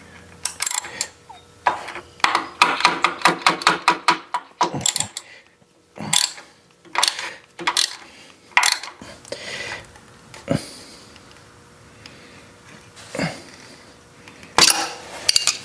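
A 1986 Honda Rebel 450 gets its foot peg and side cover removed, with bursts of metallic ratcheting and tool clinks, scrapes and knocks on hardware, close and fairly loud, then sparser clanks after quiet pauses.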